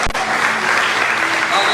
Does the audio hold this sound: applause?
yes